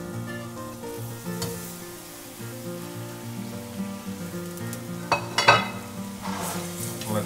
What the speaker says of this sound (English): So we'll saute this for about 2 to 3 minutes.